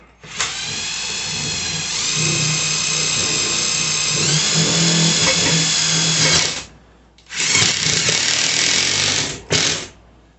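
A power drill drives a screw into a Perlesmith triple floating shelf wall mount: a loud, close, whining motor run of about six seconds, a short pause, another burst, then a brief final spurt.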